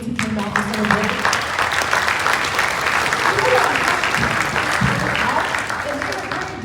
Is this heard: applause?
yes